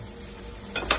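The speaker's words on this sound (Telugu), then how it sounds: "కారం ఆ నూనె అంతా పైకి తేలేదాకా కలుపుతూనే ఉండండి" Chili powder being stirred into hot oil in a pan, a low steady sizzle with a couple of brief scraping strokes near the end of this short moment.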